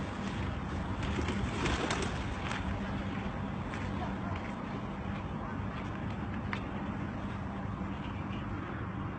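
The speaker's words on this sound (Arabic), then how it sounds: "شوف الحمام عم يحاول يقترب منها" Pigeons coo in a steady low murmur outdoors as they edge toward food, with faint voices and background noise running underneath throughout.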